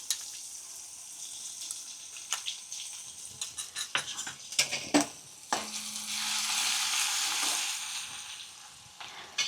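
Curry leaves, asafoetida and ginger-garlic paste hit hot oil, setting off crackling pops and scrapes of stirring, then a louder, spreading sizzle that swells midway and stays close, with no voices.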